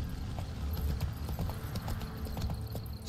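Hoofbeats from the horse Roach in The Witcher 3 game, an irregular clip-clop of hooves at a moderate level over a low background, with a brief whinny-like touch.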